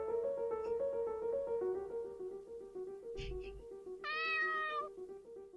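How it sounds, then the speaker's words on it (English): A cat meows in the Cloé's Requiem video game, several drawn-out tonal mews over soft background music, one louder, higher cry near the end, with a brief thump partway through and no talking. "Why is a cat in a place like this?"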